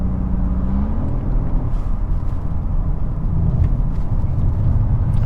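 A 2022 VW Golf R MK8 with DSG gearbox in race mode gives a steady, loud engine drone from inside the car, with low rumbling burbles throughout and no talk.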